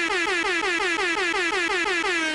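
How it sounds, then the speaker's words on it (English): A loud, blaring air horn sounds in rapid repeated pulses, a harsh rhythmic honking that continues without pause throughout. "make an air horn pop up each time"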